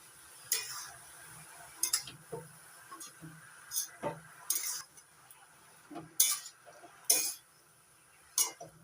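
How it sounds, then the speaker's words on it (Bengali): A spoon stirring water lily stems and shrimp in a cooking pot, faint scraping and clinking strokes in irregular bursts, mostly alone with quiet background between strokes. "এবার নাড়াচাড়া করে মিশিয়ে দিচ্ছি"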